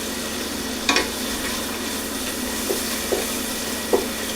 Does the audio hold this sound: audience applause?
no